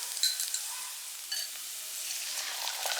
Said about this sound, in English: Heat up the oil and fry the garlic.